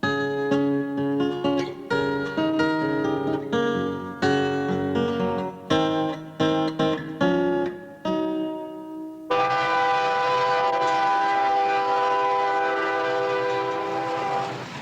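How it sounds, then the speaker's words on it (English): A 100-car freight train rumbles past with steady loud tonal horn-like drones and clattering, filling the whole stretch without pause. "There's average 100-car train."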